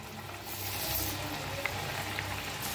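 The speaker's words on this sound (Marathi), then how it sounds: "किती बसतात तेवढ्या तळून घ्यायच्या बघा" Chakli frying in hot oil, a close, steady bubbling sizzle that holds evenly throughout with a few faint pops, and no voices.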